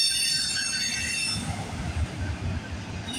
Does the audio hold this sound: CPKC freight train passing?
yes